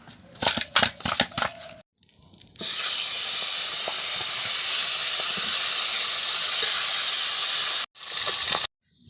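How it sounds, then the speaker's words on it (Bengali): Fish heads rubbed with salt and turmeric fry in hot oil, giving a loud, steady, even hiss of sizzling that holds for about five seconds before cutting off, then briefly resumes. "মাথাগুলো সুন্দর করে ভেজে নিয়েছি।"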